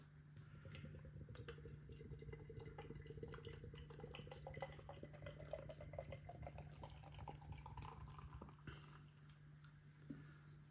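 Tartarus gluten-free hazy pale ale pours steadily into a glass, a continuous liquid trickle and fizz with a low background hum throughout, close and fairly quiet.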